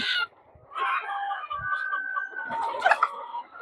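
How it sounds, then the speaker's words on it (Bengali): Super hybrid and tiger-cross chickens on a poultry farm of about fifteen hundred birds cluck loudly and crow nearby in overlapping calls. "এখানে আল্লাহ রহমতে পনেরোশো পাঁচ প্লাস মুরগি আছে"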